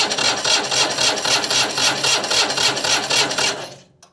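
A Citroën 2CV engine cranks on a 6-volt supply, giving a loud, rhythmic, rasping churn of roughly evenly spaced strokes close up, and then it cuts off abruptly into silence without firing.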